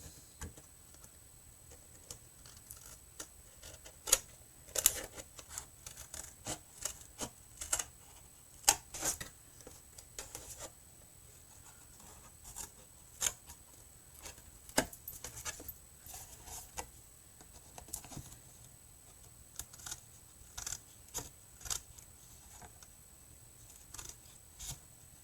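Paper being cut around with scissors while assembling a graduation bap box, a steady run of faint snips and small crisp clicks spread across the whole stretch, quiet and close, with no talking.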